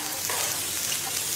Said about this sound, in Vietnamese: Chúng ta dùng lửa lớn chúng ta chiên